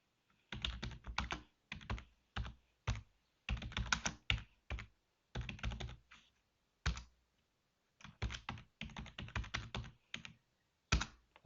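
Commands are typed on a computer keyboard during a server setup, quick bursts of clicking keystrokes separated by short pauses, close and quiet with no voices.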